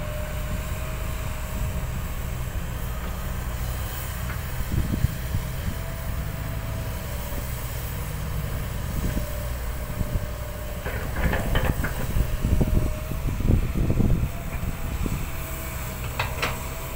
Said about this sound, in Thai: กำลังใส่ดินอยู่นี่เป็นบรรยากาศอยู่ก้นบ่อสำหรับวันนี้นะครับผม